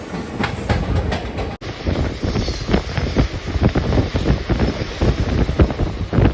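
A Ratnachal SF Express passenger train rolls out of Duvvada station on the main line, with a steady rumble, rattling wagons and rhythmic clickety-clack throughout, plus wind buffeting, heard from on board.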